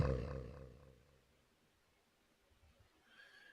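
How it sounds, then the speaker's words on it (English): A heavy, booming rumble of an asteroid striking the Earth as a movie-style sound effect, loud at the start and slowly decaying into a low, faint roar with a thin hiss near the end. "That was the sound of the asteroid hitting the Earth."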